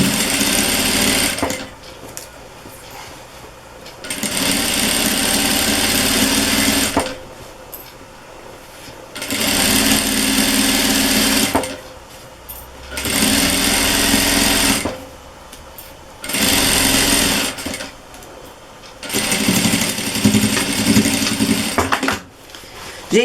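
A Zoji A8000 domestic sewing machine stitches a fabric dish towel with a Seminole patchwork border, running in loud steady bursts of several seconds separated by short pauses, with no talking.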